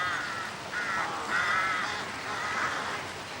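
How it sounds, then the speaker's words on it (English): Carrion crows caw in a few rough, drawn-out calls that sound moderately distant over a soft outdoor background hiss. "Carrion crows."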